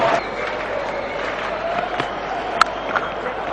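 Cricket crowd at a one-day international between Australia and Sri Lanka applauding a batsman: broad, distant stadium clapping and murmur forming a steady wash, with a brief sharp knock near the end.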